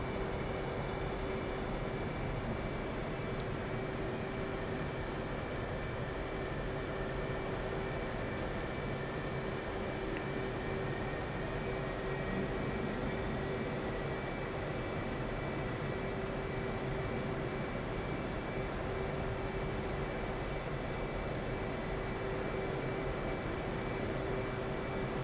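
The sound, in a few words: F-18 jets departing from runway at Nellis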